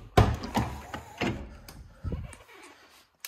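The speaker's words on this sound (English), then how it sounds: "when we open up the door" A Jeep Gladiator door opens with a sharp latch clunk followed by a few softer thumps and rattles, close by and fairly quiet in an otherwise still space.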